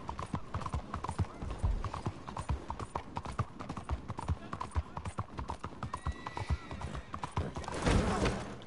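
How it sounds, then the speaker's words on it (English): An Arabian horse in the Red Dead Online video game trots with a steady, rhythmic clip-clop of hooves, ending in a loud whinny, with faint game voices underneath. "caballo árabe."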